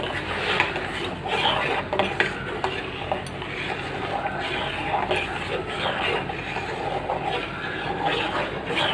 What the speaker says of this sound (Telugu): ఒకసారి కలుపుకుందాం బాగా